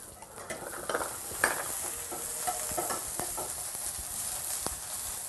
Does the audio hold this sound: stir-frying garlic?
yes